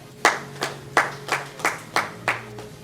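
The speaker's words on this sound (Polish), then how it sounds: "Brawa!" Applause from a small audience at a shooting match, heard as about eight slow, evenly spaced claps, fairly close and clear, with a faint steady hum underneath.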